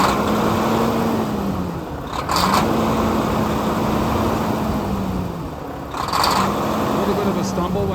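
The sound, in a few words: Volvo D13 diesel truck engine running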